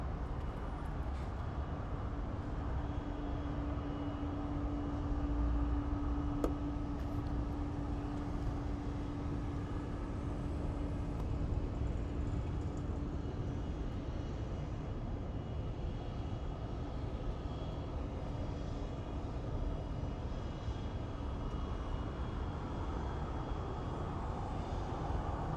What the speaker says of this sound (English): We're about to have a Kalitta Air 747 takeoff to Honolulu.